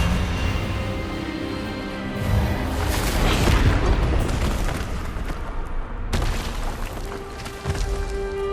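Expelliarmus spell cast in the wizarding game Hogwarts Legacy, a loud burst of magical blast and crackling impact that swells and fades over several seconds, followed by lighter rumbling effects, with no speech.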